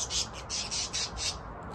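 A pet budgie squawks at a backyard pool on a sunny day, giving five or six loud, close, harsh calls in quick succession.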